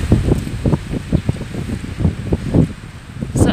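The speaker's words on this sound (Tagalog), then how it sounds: "OMG, malakas yung hangin." Strong wind sweeps along Repulse Bay Road above the sea, buffeting the microphone in a continuous series of low, rumbling gusts with a steady hiss underneath.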